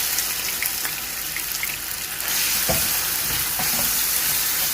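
Semolina poured into a hot pan of fat and roasting for halwa, a loud broad hiss that swells partway through, with a few scraping stirs close by and no speech.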